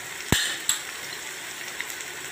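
A utensil stirs spices such as garam masala into paneer bhurji in a hot pan, with two sharp metallic clinks early on over a soft steady sizzle and a few faint scrapes afterwards.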